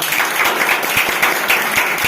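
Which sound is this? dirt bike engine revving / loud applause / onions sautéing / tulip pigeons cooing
loud applause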